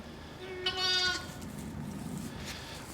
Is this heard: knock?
no